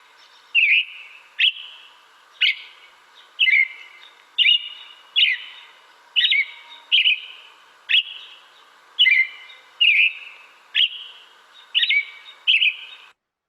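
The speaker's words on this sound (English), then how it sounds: "it was the robin" An American robin sings a clear whistled song, a steady run of about fifteen short caroling phrases spaced roughly a second apart, close and bright against a silent background.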